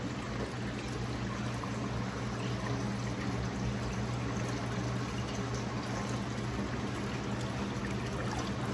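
Two Jebao SDW-16 wavemaker pumps churn the water in a 75-gallon reef tank, making a steady, unbroken rushing and bubbling wash with a low hum underneath.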